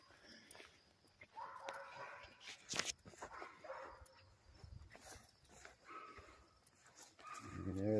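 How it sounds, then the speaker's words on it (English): A dog barks from some distance in a graveyard, with irregular barks and yips scattered through the clip over footsteps and outdoor background noise, growing louder toward the end. "there's a dog that is not happy that I'm in this graveyard right now"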